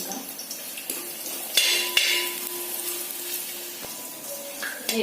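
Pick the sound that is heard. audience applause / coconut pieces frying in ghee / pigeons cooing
coconut pieces frying in ghee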